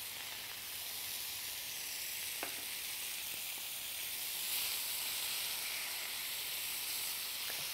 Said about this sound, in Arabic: خليني نحمرهم شوية